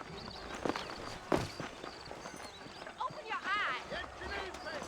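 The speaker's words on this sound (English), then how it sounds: "I got the horses saddled up and ready out front." Horses' hooves clip-clop on the ground in the Western video game Red Dead Redemption, giving a series of uneven hoof strikes and footsteps at moderate distance under people talking. A brief whinny-like tone comes near the end.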